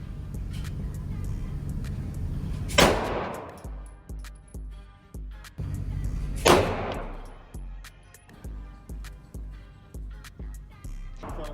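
A Glock pistol fitted with an MCK micro conversion kit fires two sharp, loud shots outdoors several seconds apart, each followed by a string of rhythmic clacks and echoing thumps.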